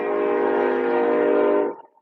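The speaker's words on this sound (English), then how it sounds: "Sorry, there's a train." Passing train sounding a long, loud, steady horn chord at close range, held for nearly two seconds before cutting off abruptly, with no other sound around it.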